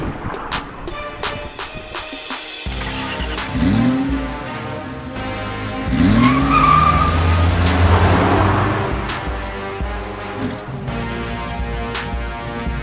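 A Cadillac CTS development car passes on a highway, its engine and tire roar swelling loudly and then fading against the steady drone of a moving car's cabin.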